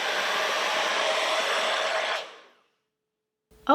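A DevaCurl DevaFuse hair dryer runs on low speed and medium heat, giving a steady close whoosh for about two seconds before winding down to silence; a brief voice follows at the end.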